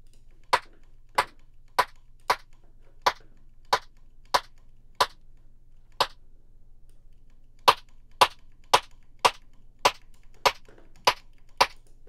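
A crisp, sharp snare drum sample built for minimal drum and bass in Ableton hits in a steady repeating pattern, each short, bright crack standing alone over silence, with a short pause midway.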